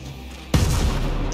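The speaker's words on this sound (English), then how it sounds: "Whoa! I hear an explosion." A sudden loud explosion in the video game Ghost Recon Breakpoint bursts in after a quiet stretch and rumbles on, heavy and close, to the end.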